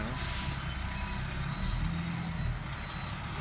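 A garbage truck's reversing alarm beeps repeatedly over a heavy engine rumble nearby.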